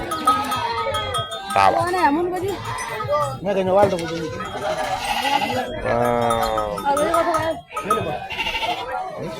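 Goats bleating at a busy goat auction market, their repeated wavering calls overlapping near and far amid crowd chatter, with people talking close by throughout.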